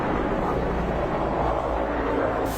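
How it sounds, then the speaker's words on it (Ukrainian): Helicopters fly overhead, making a continuous loud rumbling, whooshing roar that stays steady throughout with no voices. "Це вертольоти, це ще не дуже голосно."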